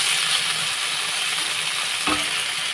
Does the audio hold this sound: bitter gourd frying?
yes